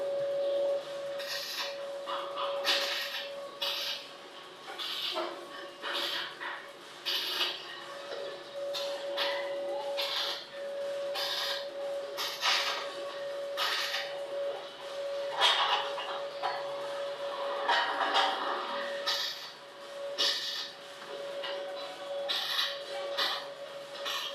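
Shielded metal arc welding on steel posts gives a steady crackling, sputtering hiss with a faint constant tone underneath. It runs close and continuous for about 24 seconds, with no talking.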